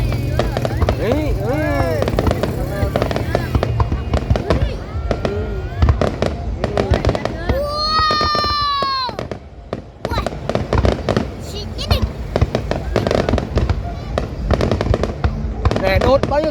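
A fireworks display for a district anniversary celebration in Thanh Son, Phu Tho: a rapid string of sharp cracks and bangs, some loud and some distant, with whistling rockets and people talking over the noise.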